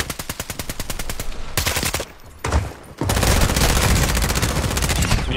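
Call of Duty Warzone automatic gunfire rattles in rapid, loud bursts, pausing briefly mid-clip before a long sustained stream of shots resumes.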